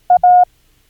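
Morse code letter A sent as a steady electronic tone: one short beep followed at once by a longer beep, clean and alone.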